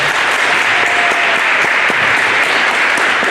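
An audience at a high school NJROTC change of command ceremony applauding loudly, with dense, sustained clapping that is close and fills the whole stretch.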